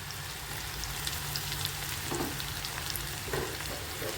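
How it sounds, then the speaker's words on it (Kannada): Chopped onions frying in hot oil for pepper chicken gravy, giving a constant, fairly soft crackling sizzle with a few faint stirring touches, heard alone without speech. "ಇವಾಗ ನಾನು ಇದಕ್ಕೆ ಹೆಚ್ಚಿಟ್ಟಿರುವಂಥ ಈರುಳ್ಳಿ ಹಾಕ್ತಾಯಿದ್ದೇನೆ"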